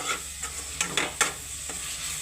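Ginger garlic paste stirred into softened tomatoes in a frying pan, a steady low sizzle with a few soft scraping strokes of the spoon, close and alone.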